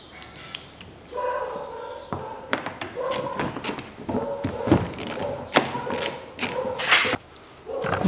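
Bolts being fastened on the engine guard of a 2012 Kia Sportage 2.0, a close run of ratcheting clicks, knocks and thuds from plastic and metal in irregular bursts, with no talk.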